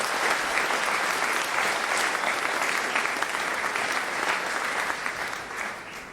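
An audience at a school production of The Addams Family gives the teachers and Miss Moore a sustained, even round of applause, dense crowd clapping that stays loud throughout and eases slightly at the very end.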